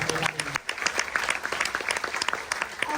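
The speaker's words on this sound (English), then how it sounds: "one more big round of applause for Space Force" A large audience on a cruise ship claps for the Space Force during a military appreciation event at sea, producing dense, sustained applause that fills the whole stretch with a steady wash of many hands, with some voices mixed in.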